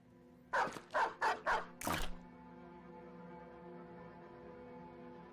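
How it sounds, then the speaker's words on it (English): Several war dogs bark in a quick burst of four sharp barks in the video game Battle Brothers, then a louder final bark or yelp, followed by a low background hum from the game. "Let's unleash as many dogs as we can."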